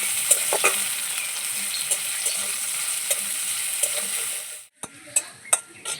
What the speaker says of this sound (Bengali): তেলের মধ্যে প্রথমে আমি দিয়ে দেব রসুন কুচি তারপর দেব আদা কুচি তারপর দেব পেঁয়াজ লঙ্কা ভাজা ভাজা করে নেবো